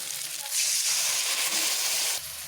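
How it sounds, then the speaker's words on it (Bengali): Spice paste hitting fried onions and tomatoes in a pan sizzles loudly and steadily, swelling into a strong hiss after the paste goes in and easing slightly near the end, with no talking. "এখানে আমার পেঁয়াজ টমেটোগুলো ভাজা হয়ে এসেছে এবারে আমি মশলাটাকে এখানে ছাড়ব"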